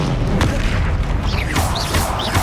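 The Bombarda explosion spell in the game Hogwarts Legacy sets off loud, booming blasts with deep rumbles and sharp bursts. Whooshing magical effects sweep in and out between them during a battle with a troll.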